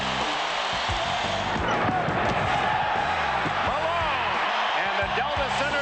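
At the Delta Center, a packed basketball arena crowd roars loudly and continuously at a Utah Jazz game featuring Karl Malone, while an announcer talks over the din.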